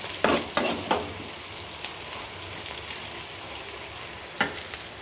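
Onion and ivy gourd pieces fry in a pan with a steady soft sizzle, broken by a few sharp clinks or scrapes of stirring, without speech.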